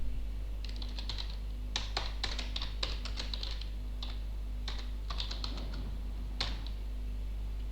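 Typing on a computer keyboard in short quick bursts of clicks separated by pauses, fairly close over a steady low electrical hum, no talking.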